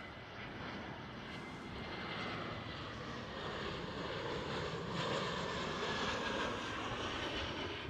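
EasyJet airliner at Schiphol airport in Amsterdam, a broad steady engine roar that swells slightly as it passes, loud and continuous with no talk.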